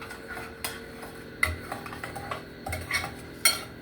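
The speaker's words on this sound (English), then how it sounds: "We're going to make sure we stir it up really good." A spoon stirs cinnamon roll filling in a bowl, with close, quick scraping and light clinks of utensil against dish in an uneven rhythm.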